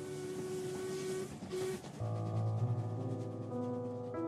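A train rumbling past, a steady low rumble with tonal horn-like hums that shift partway through, fairly distant and without talk.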